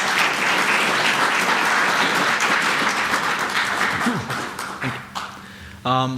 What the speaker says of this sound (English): So applause for Andrei, please.